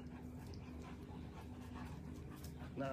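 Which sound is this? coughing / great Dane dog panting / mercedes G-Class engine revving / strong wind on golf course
great Dane dog panting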